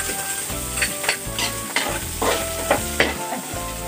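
Garlic frying in a pan, sizzling steadily with repeated scraping and stirring strokes from a utensil, close and loud, with no voices.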